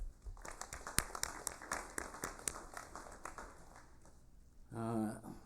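Applause in a congress chamber during a legislative session, scattered and fairly faint clapping with sharp individual claps, fading out before a voice begins speaking at the end.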